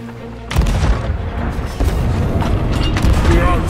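Ship cannons fire in the pirate video game Sea of Thieves, a heavy boom followed by rolling blasts and rumbling impacts amid loud, dense game noise, with faint voices underneath.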